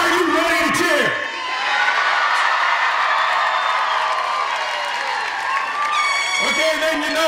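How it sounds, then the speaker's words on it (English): Graduation audience cheering, whooping and applauding inside a tent at a communication school ceremony, a loud sustained crowd roar with a voice shouting over it at the start and end. "I want you people jumping up, I want you cheering, I want you screaming, I want this tent coming down"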